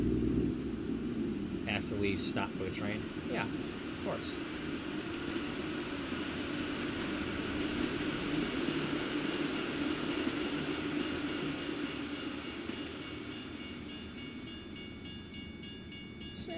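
A train passes with a steady low rumble and faint clattering in The Sims 4 video game, continuous and moderately loud throughout, while a voice talks over it.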